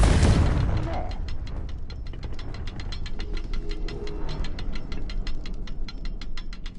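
The Confringo blasting spell in the video game Hogwarts Legacy: a loud burst that erupts at once and fades into a rumbling tail, followed by a steady ticking, mechanical rattle.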